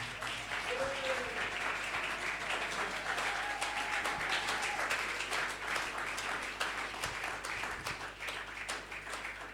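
A church congregation claps and applauds continuously, a dense, steady wash of many hands close and loud throughout, with a voice faintly audible underneath.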